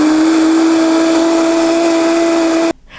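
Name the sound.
blender blending soaked almonds for almond milk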